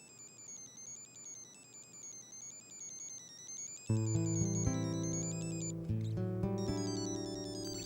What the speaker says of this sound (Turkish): şimdi kimin telefonu çalıyor?